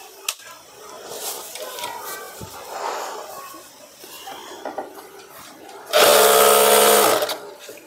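A sewing machine stitches a Patiala salwar leg in one loud, steady burst of about a second near the end. Before it comes quieter handling and background activity.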